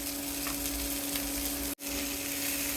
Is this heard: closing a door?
no